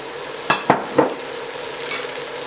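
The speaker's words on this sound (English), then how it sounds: "So I'm going to cook this curry paste, cook it good." Curry paste fries in corn oil in a pan, a steady sizzle punctuated by three or four stirring scrapes in quick succession, close and fairly loud.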